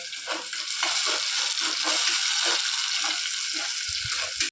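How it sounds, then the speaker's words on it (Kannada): Chopped onion and tomato frying in oil in a pan for egg curry, a steady close sizzle with soft stirring scrapes throughout, no talking. "ಟೊಮ್ಯಾಟೊ ಹಾಕೊಂಡು ಫ್ರೈ ಮಾಡ್ಕೊರೋಣ್ರಿ"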